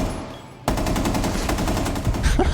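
A light machine gun in a video game opens up after a brief lull and fires a fast, continuous burst of loud, rapid shots. The burst holds steady for about two seconds with scattered impacts mixed in.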